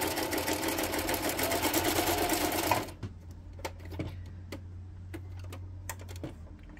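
A sewing machine runs steadily up close for about three seconds, loud and whirring. Then it stops, leaving a low hum under scattered clicks and ticks as the stitch setting is changed.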